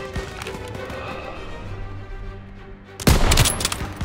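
Machine gun fire in the Call of Duty WWII video game: a short, loud, rattling burst that cuts in abruptly after a stretch of lower battle ambience.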